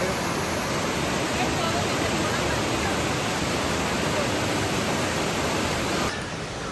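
Waddell Falls in Victoria Park, Truro, roars with a steady, loud, broadband rush of falling water that fills the scene, and a voice speaks faintly beneath it.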